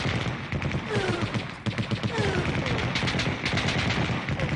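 Zombies in a science-fiction film fire super-science weapons, a dense continuous barrage of rapid gunfire-like blasts with whistling streaks, loud and sustained throughout.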